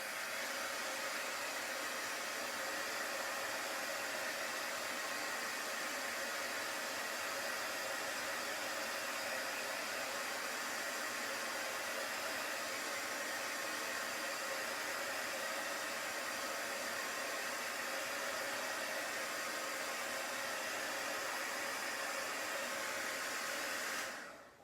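A hair dryer blows steadily while drying chalk paste on a craft design, a loud, constant broadband whoosh running nonstop for the whole stretch and cutting off abruptly at the end, with no voices.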